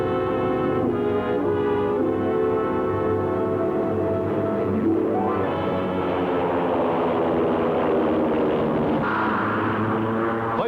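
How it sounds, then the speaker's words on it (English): Propeller-driven WWII fighter planes and bombers fly high over Asia in a 1943 newsreel, their engines making a steady, loud, continuous drone with a shifting, wavering pitch throughout, sitting under a layer of background music. "Fighter planes escort the bombers as the squadron flies high over Asia."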